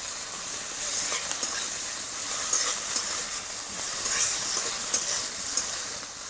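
Chopped onions and green chillies frying in hot oil in a pan, a steady bright sizzle and hiss with faint stirring scrapes, fairly close and without speech.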